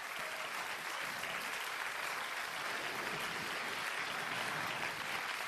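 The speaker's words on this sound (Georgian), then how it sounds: "ცოტა ტაში მოგიწევთ, უფრო მხიარულად თუ შეიძლება" Dense, steady studio audience applause on a Georgian TV show, many hands clapping at an even level for the whole stretch with no voices breaking through.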